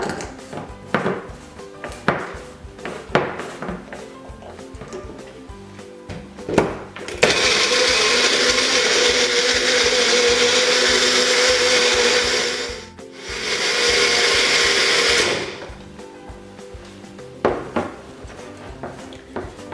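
A blender whirs loudly through a soy smoothie in two bursts, a long run then a short pause and a second run, with lighter kitchen handling noises before and after.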